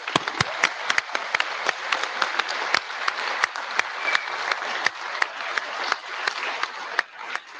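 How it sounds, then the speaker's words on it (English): A roomful of people at an IETF plenary gives a hearty round of applause for the Secretariat staff, a continuous crackle of many hands with individual close claps popping out, steady and energetic throughout. "if you'd stand up and give applause for 15 years of good work"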